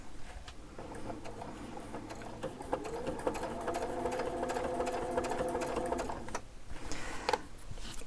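A sewing machine runs steadily, stitching a small decorative pattern for a spin-an-echo design, a dense mechanical whir holding for several seconds before cutting out briefly near the end and resuming.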